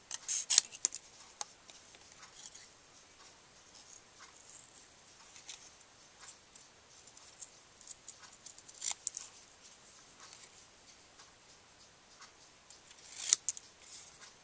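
Fine-tip scissors fussy cut a stamped paper image, making quiet, close, irregular snips and light paper ticks with pauses between cuts and no talking.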